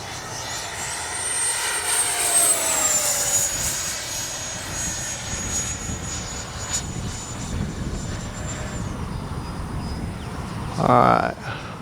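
Freewing 90mm F-15 Defiance RC jet flying overhead, its ducted-fan whine rising then sweeping down in pitch as it passes, moderately distant over breezy outdoor noise, with a brief nearby clatter at the end.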